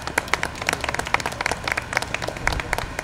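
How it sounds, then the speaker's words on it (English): A small audience gives a short round of applause, individual claps distinct and fairly close, irregular and moderately loud. "let's give them a big, big round of applause for that"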